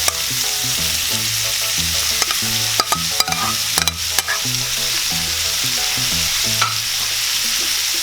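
Sliced boiled beef heart fries for paklay with lemongrass, a steady loud sizzle under repeated scraping stirs of a spatula against the pan, with no talk.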